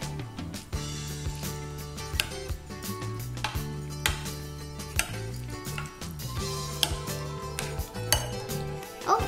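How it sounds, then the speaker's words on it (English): A bowl of egg and vegetable pancake batter with milk is stirred by hand, a utensil clinking and scraping steadily against the bowl in repeated close strokes under a continuous low background hum. "Mix it well."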